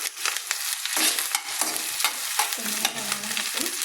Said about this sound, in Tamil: நல்லா இப்படி வரணும், தொப்பு தொப்புன்ட்டு வர மாதிரி நல்லா கிண்டணும்